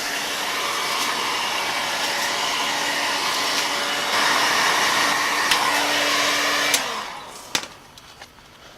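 A heat gun blows hot air onto a masking-taped PVC bow limb, a loud steady whirring roar with a faint tone, rising slightly midway before switching off, followed by a few clicks and knocks.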